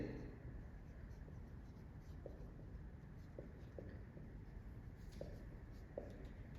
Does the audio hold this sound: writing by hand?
yes